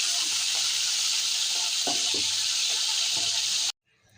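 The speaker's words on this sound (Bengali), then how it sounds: "মাছটা লাল করে ভেজে নিচ্ছি বন্ধুরা" Pomfret fish frying in white oil in a wok gives a steady, loud broadband sizzle with a few soft scraping knocks, then cuts out abruptly near the end, leaving near silence.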